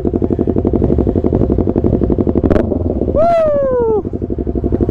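A Yamaha MT-03 motorcycle engine idles nearby with a rapid, even loping pulse, loud and close, and a brief rising whine near the end.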